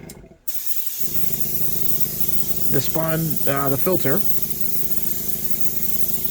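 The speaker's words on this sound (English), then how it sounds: "Then the next thing I do is I take my airbrush and I fill it with water" A steady close hiss of fine water spray from an airbrush runs throughout, starting abruptly after a brief pause, while someone speaks briefly over it.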